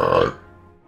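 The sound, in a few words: burp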